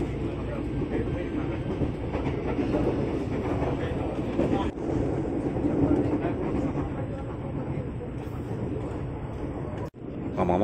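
A Tokyo Metro 6000 series commuter train rides the KRL Rangkasbitung line, giving a steady, loud rumble of wheels and carriage throughout, with a brief dropout near the end and faint talk underneath.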